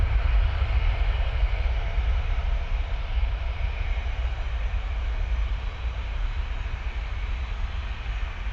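An airliner at Manchester Airport on its takeoff run, a loud, steady, low-heavy engine roar that holds almost unchanged throughout and eases only slightly toward the end, with no talking.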